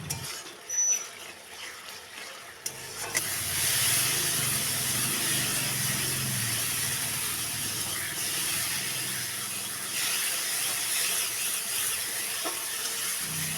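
Spice paste fries in hot oil in a pan while being stirred. A loud, continuous hiss and sizzle starts abruptly and then holds steady, with faint scraping underneath.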